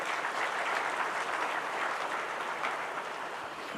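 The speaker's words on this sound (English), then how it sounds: "If you could just give it a round of applause." A full audience at the Connected Africa Summit in Nairobi applauds a declaration, a thick, continuous roar of clapping that stays loud throughout.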